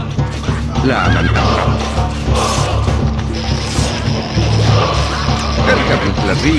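A horse neighs loudly in a medieval Saladin conquest video game, amid a busy soundscape with hoofbeats clopping and faint Arabic voices in the background.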